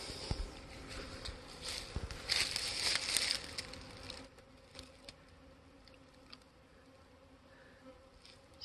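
A honeybee swarm flies around a hive it has just moved into, with a dense close buzzing of many bees that swells and then thins into scattered passing buzzes, alongside faint outdoor rustling.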